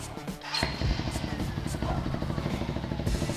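A GPR250 motorcycle with an aftermarket SC-Project SC1R exhaust rumbles loudly and steadily nearby, with a deep, throaty, uneven exhaust note.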